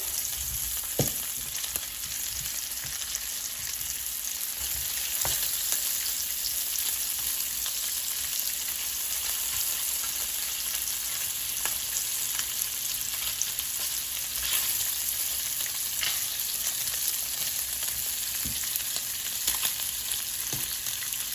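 Kielbasa fries in a pan with a steady, even sizzle lasting about twenty seconds, punctuated by occasional light stirring clicks, close and unaccompanied by speech.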